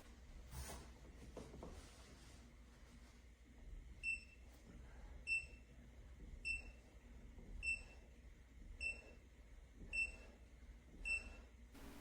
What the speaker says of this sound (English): I go down by about 3 inches and it beeps